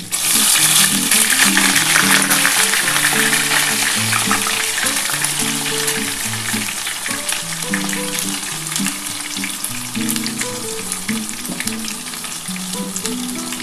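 A ground spice paste for duck egg curry fries in a hot pan, giving a loud, steady sizzle that crackles and spits throughout, with stirring scrapes and a gentle fade as the bubbling settles.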